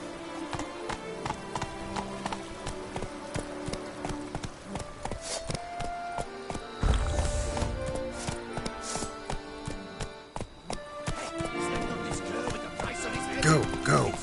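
Roach the horse's hooves clip-clop in The Witcher 3, quick rhythmic hoofbeats that come and go over game music and sound effects, with a voice speaking over them.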